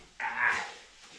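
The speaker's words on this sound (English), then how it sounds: "He's irritable and he's barking, and you can tell even animals need their exercise, huh, bud?" A single brief dog bark sounds from a short distance, a quick sharp yelp rising and fading within half a second against a quiet room.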